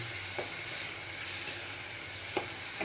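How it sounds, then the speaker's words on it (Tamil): Shrimp, shallots, curry leaves and green chillies are tempered in hot oil, making a steady, close sizzle and crackle with a few soft stirring clinks. "இறால், சின்ன வெங்காயம், கருவேப்பிலை, பச்சை மிளகாய் எல்லாம் போட்டு இதை தாளித்து ஊற்றிட்டேன்"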